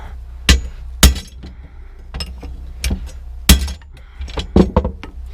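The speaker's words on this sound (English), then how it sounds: "so it's going to be a bunch of hammering and whatnot." Sharp metal hammer blows ring out on a John Deere 115 chuck wagon floor chain, about a dozen irregular strikes of varying force, close and loud with brief clinks between them.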